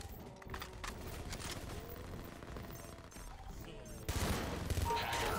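A high-recoil gun fires repeatedly in a multiplayer mod video game, giving dense rapid shots throughout that grow louder near the end.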